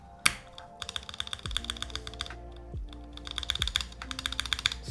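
Rapid clacky typing on a mechanical keyboard fills the short passage, with bursts of keystrokes and several deeper thunks from the stabilized spacebar, close and fairly loud.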